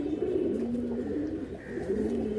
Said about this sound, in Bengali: এটা আন্ধ্রা থেকে আনা পায়রা